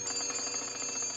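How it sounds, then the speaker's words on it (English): An old-fashioned telephone ringing in an old animated cartoon: a steady, bright metallic bell trill that holds on without pause, fairly soft, with no talking. "That's my phone."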